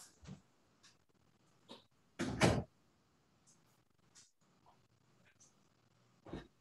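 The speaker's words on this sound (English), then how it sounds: "I'm going to close my office door" An office door closing in a quiet home, a few soft scattered clicks and shuffles followed by one louder thud and latch, then light handling noises, no voices.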